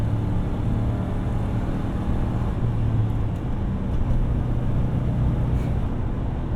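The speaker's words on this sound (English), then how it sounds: "you can hear like it's a big motor" A Ford Crown Victoria's big V8 drones steadily from inside the car while driving, with a low, even engine hum and road noise holding constant throughout.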